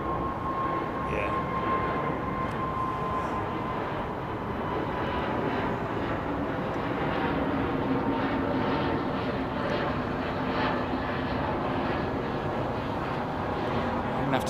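Jet airliner taxiing at Heathrow Airport, a steady broadband engine roar that holds evenly throughout with a faint whine on top, distant and continuous.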